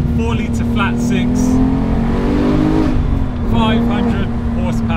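A Porsche 911 GT3 Touring with a manual gearbox and 4-litre flat-six engine holds a loud, steady engine note that climbs, dips briefly and resumes, heard close up under intermittent talking.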